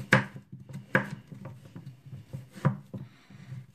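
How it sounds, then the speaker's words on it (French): A knife chops green vegetables into small cubes for baby purée on a cutting board, with sharp knocks at irregular intervals and softer taps in between. "je mets de côté et je coupe pareil des petits cubes"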